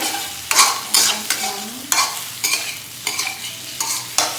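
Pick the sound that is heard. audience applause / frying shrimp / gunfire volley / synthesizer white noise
frying shrimp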